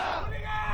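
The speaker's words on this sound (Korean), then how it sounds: "다시 한번 온몸의 힘을 모아 크게 함성을 외칩니다." Naval academy cadets roar a loud, sustained battle cry together, a dense crowd shout holding steady for under a second.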